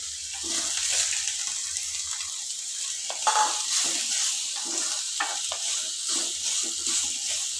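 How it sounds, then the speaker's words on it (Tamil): Onions and vegetables sauté in a pan for a gram flour kurma, making a continuous close sizzle broken by repeated spatula scrapes and stirring knocks, with no talking. "வெங்காயம் நல்லா வதங்கினதுக்கப்புறம் காய்கறிகள் சேர்த்துக்கோங்க"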